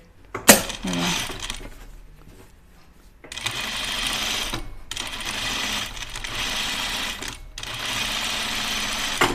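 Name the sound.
sewing machine understitching dress pockets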